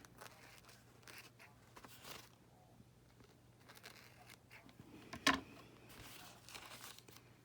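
Paper is cut and folded by hand for a junk journal cover from a repurposed mini album kit, quiet soft crinkling and rustling with one sharper crisp snip or crackle partway through.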